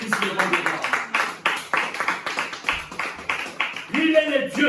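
A church congregation claps and acclaims Jesus Christ during a Sunday service, rhythmic hand claps in steady beats mixed with cheering voices and a singer or preacher over the top.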